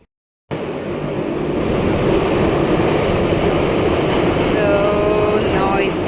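A Minsk underground metro train roars steadily through the station, loud and close, a broad rumbling rush with faint high squeals of wheels and brakes near the end.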